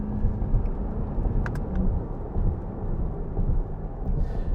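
A 2024 Corvette E-Ray with a gas 6.2 V8 and electric motor torque fill gives a loud, steady, close engine and road roar that holds without a break.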